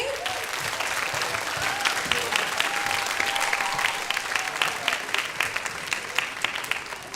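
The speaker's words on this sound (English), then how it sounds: "One more round of applause for our choirs this evening." Audience applause for the choirs at a high school spring concert, a steady, dense wash of clapping that holds for several seconds at even loudness, with faint voices mixed in the crowd.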